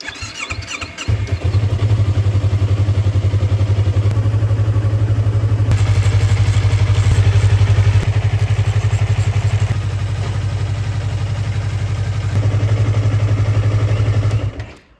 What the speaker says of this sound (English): So we'll be running the bike after this for at least 8 minutes.